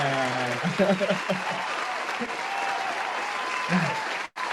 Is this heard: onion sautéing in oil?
no